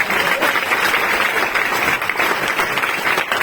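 Loud, sustained applause from a seminar audience welcoming a Mi Lifestyle diamond leader, dense steady clapping filling the room throughout without a break.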